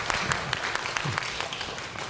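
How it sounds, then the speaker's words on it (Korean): Korean church congregation applauding the children's department during a Sunday worship service, fairly quiet scattered clapping with a few sharper claps standing out, fading slightly toward the end. "박수 한번 칩시다."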